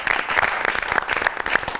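A studio audience on the Pakistani TV comedy talk show Public Demand applauds for a singer with brisk, steady clapping that stays close and continuous throughout.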